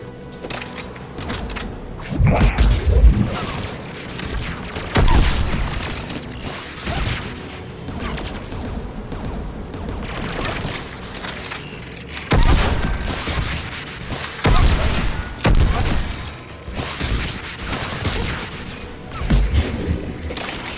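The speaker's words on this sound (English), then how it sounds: "There, the anti-aircraft guns." Anti-aircraft guns fire in Mass Effect 3, heavy booming bursts and mechanical clanks that return in waves over a continuous rumbling backdrop, loud and close, with no talk.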